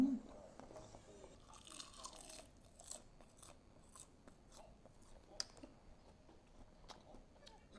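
Someone chews a mouthful of rice and boiled pork wrapped in seaweed, with soft, irregular crunching and wet bites close up at a low level. A brief voice or two breaks in occasionally.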